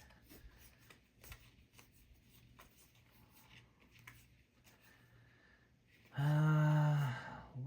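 Pokémon trading card packs being handled and opened, with soft rustling and flicking of cards at low level, then a loud crinkling tear of foil packaging near the end.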